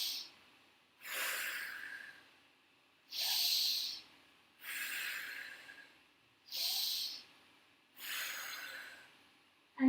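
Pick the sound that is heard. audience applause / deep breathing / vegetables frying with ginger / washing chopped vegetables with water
deep breathing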